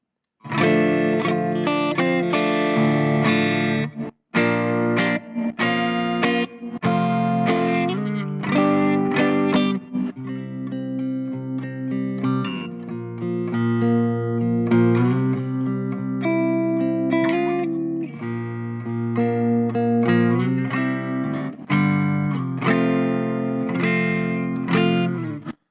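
Electric guitar played through a Bugera G20 Infinium amp on its USA setting, a loud, distorted tone of strummed chords and picked runs with short pauses, alone with no talking.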